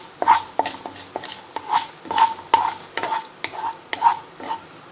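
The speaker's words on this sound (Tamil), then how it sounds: "கடுகும் பொரியிற ஸ்டேஜுக்கு வந்துட்டுருக்கு." Mustard seeds and chana dal splutter and crackle in hot oil in a pan while cooking kovakkai poriyal, a steady run of sharp pops and sizzles close by, with no talk.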